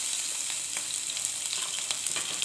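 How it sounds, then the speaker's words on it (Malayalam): Chopped shallots crackle steadily in hot oil with mustard seeds, a dense bright sizzle with small popping spikes scattered throughout, close and fairly quiet, no voices. "ഒരു 4-5 ചുവന്നുള്ളി അരിഞ്ഞത് ചേർക്കാം."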